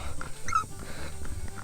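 A dog on the trek up Mahuli Fort in Thane lets out a brief whine or yelp close by, over soft outdoor background noise.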